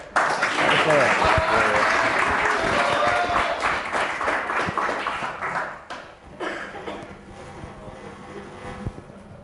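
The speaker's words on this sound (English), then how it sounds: "Guys, let's give an applause for Roth." A conference audience in Tenerife applauds a marketing speaker in 2022, a loud, full wash of clapping that gradually fades, with voices talking as it dies down.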